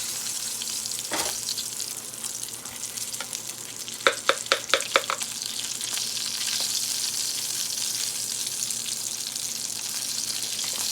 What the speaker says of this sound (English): So I want to stir this up good so I can spread it.